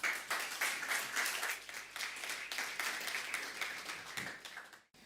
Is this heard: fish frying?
no